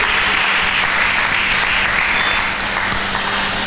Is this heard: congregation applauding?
yes